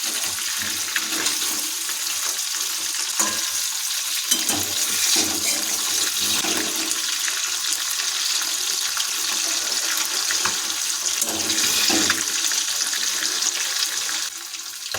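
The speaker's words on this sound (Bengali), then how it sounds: "মাছগুলো একদিক ভাজা হয়ে গেছে, এখন আমরা খুন্তিতে ভালোভাবে মাছগুলো উল্টে দেবো।" Pieces of bhola fish fry in hot oil in a pan, a loud, steady, broadband sizzle that holds throughout with slight surges, then drops off near the end.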